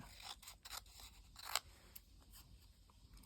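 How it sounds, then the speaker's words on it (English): Scissors snip out small paper bunting triangles, a series of close, crisp cuts in irregular rhythm, quiet apart from one sharper snip near the middle. "then we're just going to cut them out."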